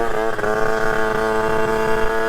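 A modified moped, likened to a 125cc dirt bike, revs hard under acceleration, its engine note loud, steady and buzzing with a dense stack of harmonics throughout.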